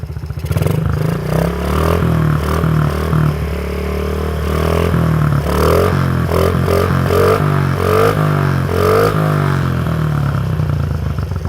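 A Honda CRF50F dirt bike engine idles close by after a carburetor cleaning, with a steady low putter broken by uneven surges and a little mechanical clatter, and no voices over it.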